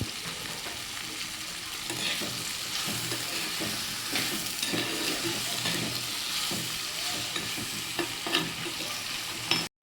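Bitter gourd sizzling in a pan with curry leaves and salt, a continuous dense frying hiss with scattered stirring scrapes, steady and close, ending abruptly.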